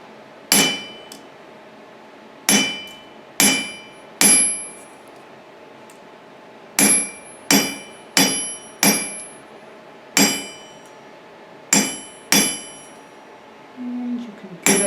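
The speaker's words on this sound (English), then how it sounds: "And I'm not trying to hammer super hard. I'm just wanting to give it some texture." Metal being hammered by hand to texture it while making a mountain piece: a dozen or so sharp ringing strikes, loud and close, coming in quick pairs and clusters with short silent gaps, and no talking.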